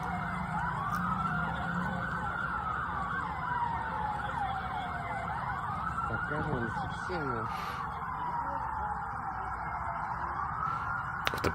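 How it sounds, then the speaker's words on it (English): Police car sirens wailing in a Mexican street, several sweeping tones rising and falling in long cycles at moderate distance over steady traffic rumble, with faint background noise but no clear talk. "With the police sirens blaring in the background, it sounds like one of the vehicles is getting closer."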